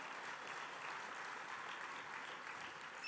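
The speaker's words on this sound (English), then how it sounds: "that definitely deserves a round of applause" An audience at a national conference applauds, a faint, even wash of clapping heard from a distance for a few seconds.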